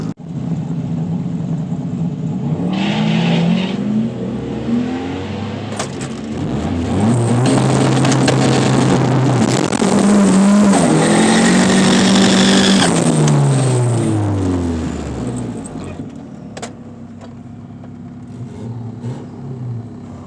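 Engine of a 2020 Toyota Supra using launch control at a drag track, close and loud, climbing through rising revs with gear changes before fading as it pulls away; no talking.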